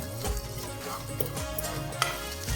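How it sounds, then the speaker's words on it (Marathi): A spoon stirs garam masala and coriander powder into a khichdi mixture in a pan, making close scraping and soft sizzling with a single sharp clink. "आता आपण हे छान मिक्स करून घेऊया"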